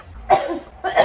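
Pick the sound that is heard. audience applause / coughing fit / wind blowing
coughing fit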